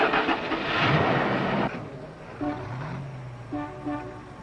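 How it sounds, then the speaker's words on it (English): Cars pull up outside, their engines rumbling under a low, steady drone. A rising and falling tonal whine also runs through it, all heard from some distance with no talk. "Sounds like some cars."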